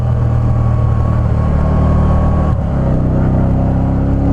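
A motorcycle engine runs steadily while being ridden with a passenger aboard, loud and close with a constant droning hum and a brief dip in pitch midway.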